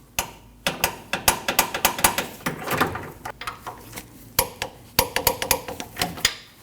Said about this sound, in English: Both of these bolts get torqued down to 121 foot-pounds.